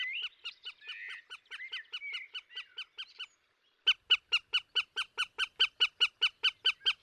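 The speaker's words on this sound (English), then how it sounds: "It is a female goshawk eating prey caught by the male." A female goshawk calls repeatedly while eating prey, giving loud, harsh, rhythmic cries in an even series that pauses briefly before resuming more strongly and close by.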